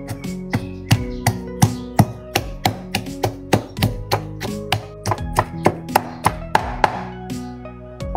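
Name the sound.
chopping pickled chili peppers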